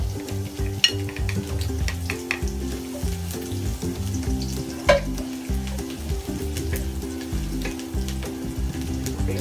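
Garlic sizzles and crackles in oil for fried rice, a close, busy frying sound with frequent sharp pops and stirring, no voices.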